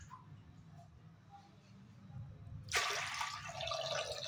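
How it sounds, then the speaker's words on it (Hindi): Water pours into lentils for dal makhani, starting suddenly partway through as a steady, splashing rush after a quiet kitchen stretch. "अब इसमें डाल देते हैं दाल डूबे जितना पानी, थोड़ा सा और डाल देते हैं।"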